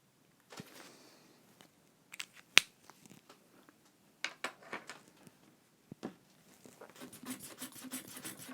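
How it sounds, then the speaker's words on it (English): An art gum eraser rubs across paper in short, scattered scratchy strokes with quiet pauses between, ending in a quicker run of soft rubbing. "I'm using an art gum eraser here"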